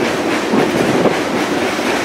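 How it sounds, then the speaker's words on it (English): A heavy freight train rolls past close by, a steady loud rumble with a rhythmic clatter of wheels over rail joints. "Not a terribly long train."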